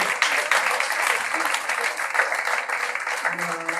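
Audience applause at the close of a talk on startup and company compliance, a steady wash of clapping from a seated crowd in a hall for a few seconds.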